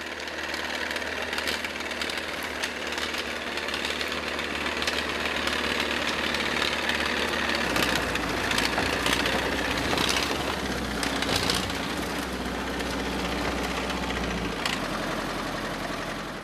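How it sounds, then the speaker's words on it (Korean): A tractor engine hauling through a snowy Russian mountain forest at a loggers' site in minus 30 °C cold: a loud, continuous rumbling drone with rattling vibration that shifts in tone partway through as the machine labours on. "험준한 산속을 이동하는 작업에 있어서 트랙터는 이처럼 중요한 역할을 한다."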